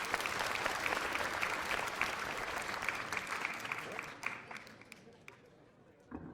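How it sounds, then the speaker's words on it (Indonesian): Audience applause for a boy named Iwan at a magic show, dense clapping at first that thins out and fades to scattered claps and near silence toward the end. "Tepuk tangan buat Iwan."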